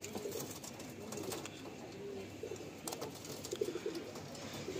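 Pigeons cooing in a loft, including Madrasi and Giribaj breeds: soft, low repeated coos in short bursts over a quiet background, faint and fairly near.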